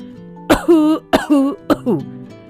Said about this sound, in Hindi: उन्हें फिर से गला साफ करते समय खांसी उठी